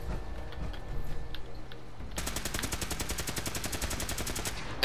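Rapid automatic gunfire in Fallout 4, a dense, loud burst of evenly spaced shots that begins partway through and keeps going steadily to the end, following quieter game ambience.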